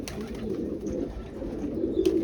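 Pigeons cooing steadily nearby, low soft coos overlapping in a continuous murmur throughout.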